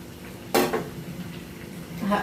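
Moong dal kachori deep-fry in oil in a pan while being flipped. A low, steady sizzle runs throughout, broken by a sharp clatter of utensil against pan near the start and another scrape toward the end.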